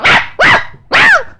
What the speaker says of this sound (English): the dog barked angrily